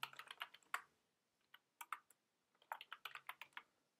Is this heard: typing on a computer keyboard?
yes